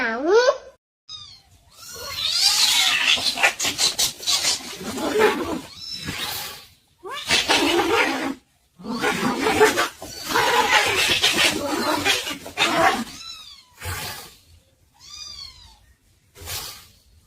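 A cat meows repeatedly, with short rising and falling cries scattered between stretches of a person talking to it and some laughter.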